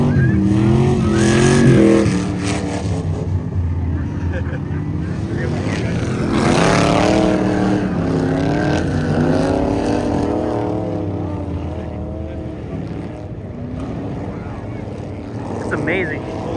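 A vintage John Deere 440 snowmobile races around a track corner, its engine roaring loud and close, rising and falling in pitch as it revs through the turn and fades slightly.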